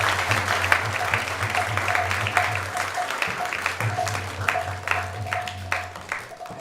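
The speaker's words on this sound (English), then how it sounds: "Please give a big round of applause to everyone who have joined and also online." An audience at the ISKCON temple in Silicon Valley gives a big round of applause, a sustained, fairly loud wash of clapping over a low steady hum from the hall.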